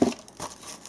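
Paper crinkles and rustles while a Thermaltake Tt eSPORTS Talon mouse is unboxed, a sharp close crinkle followed by softer scattered handling noises.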